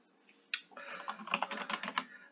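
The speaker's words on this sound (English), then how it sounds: "let me put my keyboard down on my lap so it doesn't sound quite as clicky, clicky, clicky, clatty, clatty, clatty, clatty" Rapid clicky typing on a computer keyboard, close and fairly quiet, a dense run of keystrokes following a few isolated taps.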